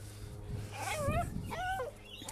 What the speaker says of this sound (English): This is my old doggy.